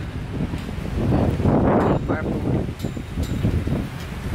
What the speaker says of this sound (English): Nice and breezy outside.